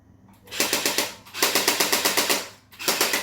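Two-gun recoil light gun firing in the Aliens arcade game, loud rattling bursts of rapid gunfire with mechanical recoil thumps, three bursts separated by short pauses, close and without talk.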